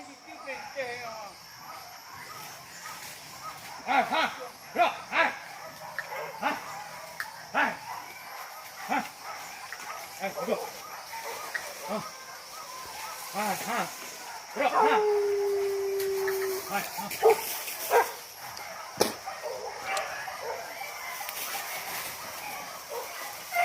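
Dogs bark intermittently at a distance outdoors by a river during a wild boar hunt while people talk nearby, with a faint steady insect hum underneath.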